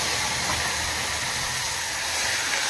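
A ground thoothuvalai herb and masala paste sautéing in a hot pan, giving a loud, steady, close-up sizzling hiss that holds evenly throughout with no talk.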